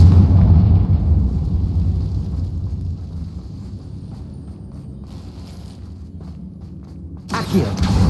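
A Confringo blasting spell explodes in the video game Hogwarts Legacy, a loud, deep booming blast that rumbles and slowly fades, followed by a sharp later burst.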